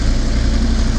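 A Lada Niva engine roars under throttle on summer tires, a loud, close, steady low rumble filling the whole short moment with no voices.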